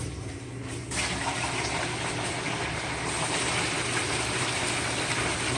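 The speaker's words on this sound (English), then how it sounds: "Let the water run for a while." Water runs steadily through a gold sluice box used to process fine gold concentrates, a continuous close rushing and splashing that surges louder after the first second.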